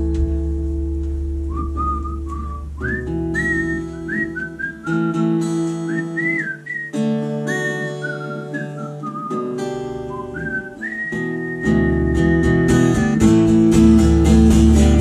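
A person whistles a lively melodic tune over a full band backing at a live record store performance, the whistled line rising and falling steadily and loud for the whole stretch.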